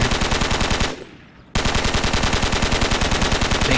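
Rapid automatic gunfire in the military shooter game Project Reality, loud and close, a steady fast rhythm of shots that breaks off for about half a second before resuming just as hard.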